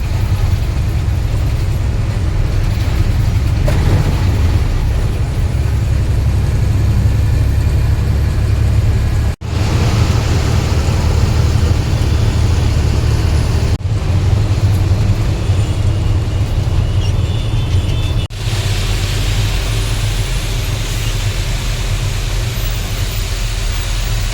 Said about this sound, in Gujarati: ટ્રાફિક જામ છે કામરેજ પુલ પાસે